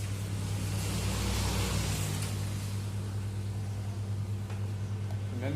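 A Kyocera M3860 office photocopier powering up, its steady low motor hum and fan noise running continuously at close range with faint mechanical whirring above it, no voices.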